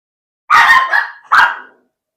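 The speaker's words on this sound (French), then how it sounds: "Il y a une autre chien dans l'édifice, alors mon chien répond quand celui-ci y jappe." A dog indoors barks in reply to another dog in the same building: two loud, close barks, the first drawn out into a yelping tail, with no other sound around them.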